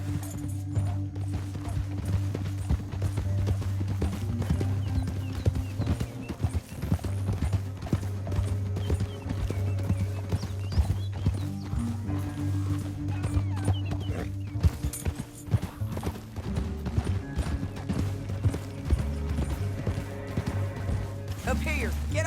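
Horse hoofbeats while riding in Red Dead Redemption 2, a steady galloping clip-clop that runs throughout alongside background music and occasional character dialogue.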